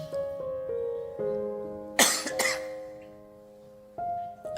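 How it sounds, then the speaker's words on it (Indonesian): An older person coughs a single short, rough burst, quickly followed by a second smaller one, against a soft tonal background in a quiet indoor setting. "Penyakitnya batuk."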